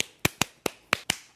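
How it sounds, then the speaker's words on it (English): Sharp, bright flamenco hand claps in a syncopated, uneven rhythm, about six crisp strikes over a second and a half, close and dry with short gaps between them and no voices. "and polyrhythmic clapping"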